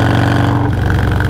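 Motorcycle engine drone mixed with heavy rushing wind noise while riding with the windshield cracked open, loud and continuous throughout.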